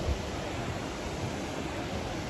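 Water runs continuously through a ride channel at Oakwood Theme Park, a steady, even rushing hiss that fills the clip at a fairly loud level without breaks or voices.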